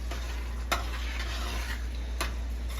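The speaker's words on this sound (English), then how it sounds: "this pasta sauce is boiling. Well, bubbling, I should say. And one more stir." Pasta sauce bubbles and sizzles softly in a pot over a steady low hum, with two sharp spoon clinks against the pot during stirring.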